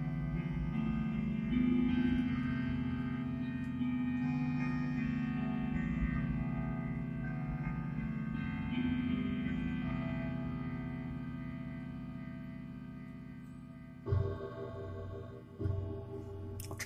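Sustained tones from a Korg Kross electronic keyboard imitating a grandfather clock ring out like slow chimes, layered and reverberant, followed by a few deeper struck notes of the hour strike near the end.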